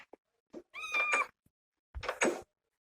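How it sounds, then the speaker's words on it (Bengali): A cat in Minecraft Pocket Edition meows twice, close and clear, with a faint knock in between and quiet gaps. "বিলাই দেখি ডাকে আমার।"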